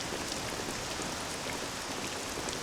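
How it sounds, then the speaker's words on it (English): Steady rain pours in an outdoor scene from Dragon Quest VII Reimagined, a dense even hiss of drops on surfaces with no voices. "This accursed rain'll chill ye to the bone."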